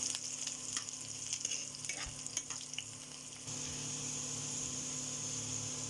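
Chopped onion and garlic fry in oil in a pan as tempering before greens go in. Scraping stirs and clinks ride over a sizzle that then settles into a steady hiss, with no talking.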